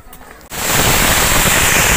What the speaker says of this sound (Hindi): भाई साहब यहाँ पे देखो बवाल वाले पटाखे फूट रहे